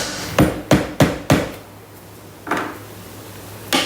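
A spatula knocks and scrapes against a Thermomix bowl while cookie dough is cleared from the sides, four quick sharp taps in a row, then a pause and two more separate knocks, close and clear with no talking.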